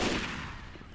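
A brief burst of gunfire in the zombie shooter Left 4 Dead 2, on the Dead Air map: one loud, close blast that rings out and fades over a second, with no voices.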